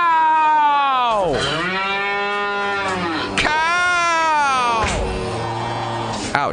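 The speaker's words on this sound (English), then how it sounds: "Oh no, the cows are coming for us." Cattle moo in long, drawn-out calls, three loud bellows in a row that slide downward in pitch. They sound close and fill most of the stretch, and a person's voice may blend in among them.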